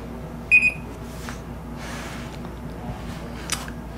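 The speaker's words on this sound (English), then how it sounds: "You can also change the volume on the audible alarm with 4 stages." A SETRA SRPM cleanroom monitor gives a short audible alarm, two quick bright electronic beeps near the start, followed by quiet room tone with faint soft handling noises.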